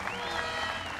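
A hometown crowd at a compound archery World Cup final in Odense applauds with dense, sustained clapping and cheering that holds steady and loud for the full second.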